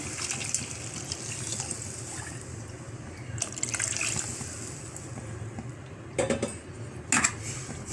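Second-extract coconut milk poured into cabbage cooking in a pan for a creamy Tamil sodhi, a soft liquid trickle with light clinks of pot and utensil, steady and close with brief louder knocks near the end.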